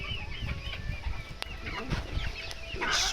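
Cochin and Salmon Faverolles chickens clucking and chattering close by among young birds, with short overlapping calls and a brief flutter near the end.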